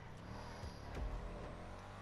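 A car in GTA engine drones steadily through a handbrake turn, a continuous close motor rumble with a brief low surge near the middle.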